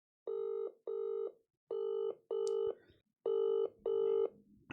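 Outgoing phone call ringing back, with three pairs of evenly spaced two-part ring tones, each burst short and bright with brief silences between pairs, clear and moderately loud.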